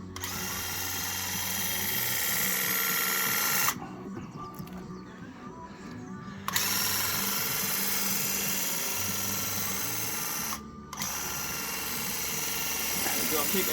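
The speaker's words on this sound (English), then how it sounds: "so we're just going to spray it straight on now" A Graco airless sprayer laying satin wood paint onto under-stairs cupboard doors gives a loud, steady airy hiss close by, cutting out twice for a few seconds before resuming.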